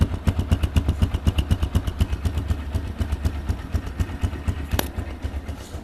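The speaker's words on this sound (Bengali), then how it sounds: "তো রানিং অবস্থায় বাইকটির সাউন্ড শুনুন" A running TVS Stryker 125cc motorcycle, its engine thrumming in a steady, rapid pulsing beat up close, with a brief sharp click near the end.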